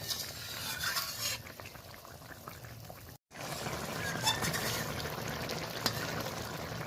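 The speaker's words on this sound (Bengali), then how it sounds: "তো হালকা করে একটু নেড়ে নিলাম" Parshe fish curry with homemade bori being stirred in a pan, giving soft scraping and gentle bubbling sizzle with light utensil clinks, a brief cutout midway, quiet and close.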